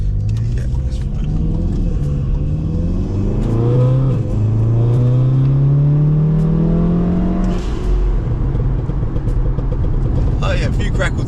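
A Stage 2 tuned Volkswagen Golf R engine revs up and falls back in a loud, close rumble, with a few sharp exhaust pops and crackles around the start and end.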